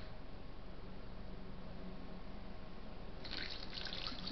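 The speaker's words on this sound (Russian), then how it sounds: "Выливаем в раковину" Steady rush of running water draining into a sink, a continuous wash of liquid noise that brightens slightly near the end.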